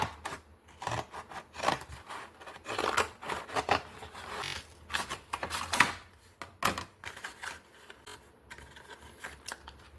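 Scissors or a blade cutting through a cardboard box indoors, giving irregular bursts of crisp snipping and scraping that come close and fairly loud, with short pauses between cuts and no talking.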